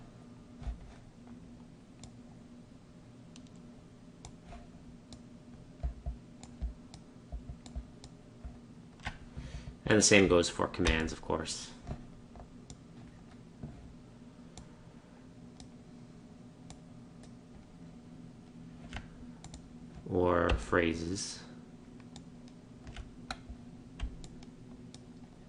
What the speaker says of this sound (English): Here I'm control clicking in each case to create a copy.